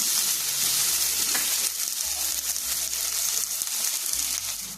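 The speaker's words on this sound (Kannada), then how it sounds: "ಈಗ ಎಣ್ಣೆ ಕಾದಿದೆ. ಈರುಳ್ಳಿ, ಸ್ವಲ್ಪ ಬೆಳ್ಳುಳ್ಳಿ, ಕರಿಬೇವು ಹಾಕೊತಾ ಇದ್ದೀನಿ." Onion, garlic and curry leaves drop into hot oil for a capsicum gravy, giving a loud, continuous close sizzle and crackle that holds steady throughout.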